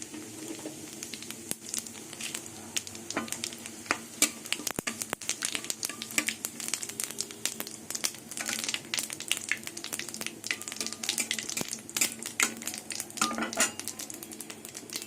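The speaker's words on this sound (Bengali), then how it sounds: "তেল গরম হয়ে গেছে একটা শুকনো লঙ্কা দুটো তেজপাতা আর গোটা জিরে ফোড়নে দিয়ে দেবো" Dry red chili, bay leaves and whole cumin seeds sizzle steadily in hot oil, a close, continuous crackle with sharp pops throughout and the occasional clink of a utensil against the pan.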